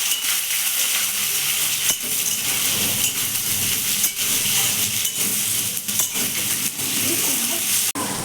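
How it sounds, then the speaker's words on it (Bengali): Meat frying in oil with ginger-garlic paste, tomato and onion, a steady dense sizzle with stirring scrapes and occasional clinks of a utensil against the pan, close and continuous without speech. "আদা রসুনের পেস্ট, টমেটো, পেঁয়াজ এইসব আমরা এর সঙ্গে তেলে ভেজে দেবো।"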